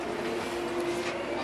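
Hong Kong Airport Express train starting to pull away, a steady low rumble and hum with a sustained tonal drone from the carriage, continuous and even throughout.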